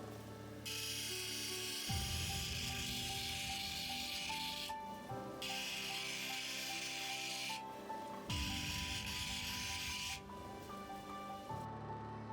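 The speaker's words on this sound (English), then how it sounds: "then I move over to the 1200 grit wheel where I begin the stages of the final polish" An opal chip held against a spinning 1200 grit polishing wheel, giving a steady close whirring hum with three long hissing rubbing passes as the stone is pressed on and lifted off.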